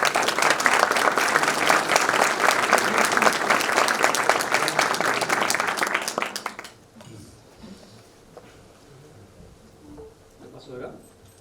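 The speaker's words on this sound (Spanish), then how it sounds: "Lo recibimos con un fuerte aplauso." A seminar audience applauds a guest economist with strong, sustained clapping for about six seconds before it stops abruptly. Quiet rustling and low voices follow in the hall.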